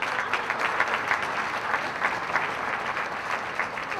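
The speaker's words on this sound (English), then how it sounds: "A round of applause again for Ed and Patricia" Audience applause at an awards ceremony honoring a couple, a dense, steady wash of many hands clapping that holds at an even level throughout, with no voices rising above it.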